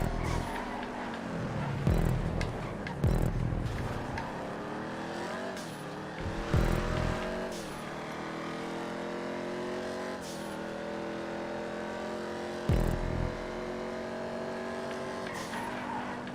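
Dominator GTX muscle car racing through an open muscle-car race course in GTA 5, engine roaring steadily with rising and falling gear pitches and several short bursts of tire squeal and skidding.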